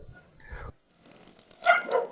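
Dogs on a farm let out a few quick yips and barks, one burst early and a louder cluster near the end, set apart by a brief silence and heard fairly faint at a moderate distance.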